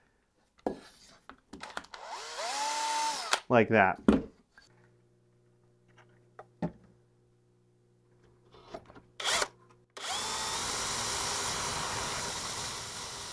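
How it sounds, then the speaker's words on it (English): A power drill whines into metal while boring a hole for an all-metal dagger, with a rising, grinding tone, then stops; later a steady motor whir runs, with a brief spoken remark between. "I can take my correct size drill bit and drill a hole through that'll be perpendicular"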